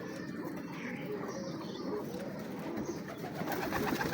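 Breeder pigeons coo softly around their young chicks in a loft, a low steady murmur of bird calls running throughout with no talking.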